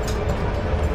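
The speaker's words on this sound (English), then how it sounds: "So, this is a 2-hour ride, train ride, going to Salzburg." A train running from Vienna to Salzburg gives a brief, loud, steady rumble of rolling carriage noise.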